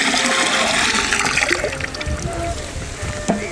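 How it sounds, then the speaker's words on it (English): Water pours and splashes steadily into a container while mixing a jeevamruth culture with cow urine, a continuous gurgling rush that thins toward trickles, no voices. "pour this 5 liters cow urine in 1 liters of water"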